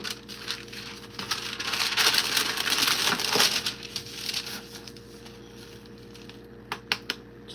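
Parchment paper crinkles and crackles loudly as it is handled and pressed into a baking pan for raspberry pistachio bars, a dense rustling stretch that thins out into a few sharp crinkles near the end.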